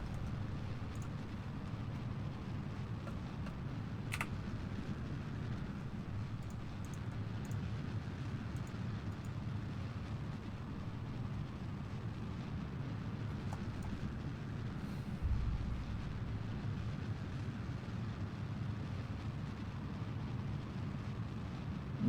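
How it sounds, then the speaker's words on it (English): Sustained low rumble of a rocket transfer stage engine firing for orbital circularization in Kerbal Space Program, a steady continuous roar holding at even loudness throughout with no talk. "we have ignition on the transfer stage for circularization here"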